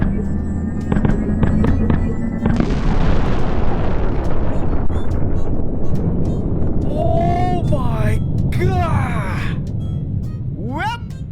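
A loud explosion of a planet in the video game Solar Smash bursts and rumbles into a long roaring decay, followed by swooping synthetic zaps and chirps while a voice exclaims over it.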